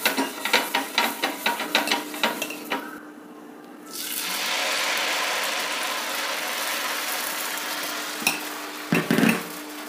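Dosa batter frying in oil on a hot tawa: a run of quick rhythmic scraping taps gives way to a loud, steady sizzle close up that continues to the end, with a couple of soft knocks near the finish and no talking.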